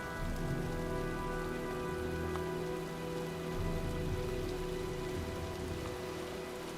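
Video game rainstorm with dense, steady rain pattering on surfaces, a constant close wash of drops over a low rumble and faint tonal background hum, no voices.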